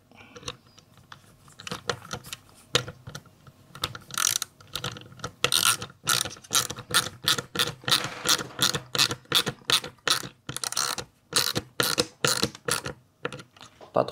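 Torx screws are driven into a Tesla carbon steering wheel with plastic parts, producing quick rhythmic ratcheting clicks in repeated close bursts that grow denser and louder midway.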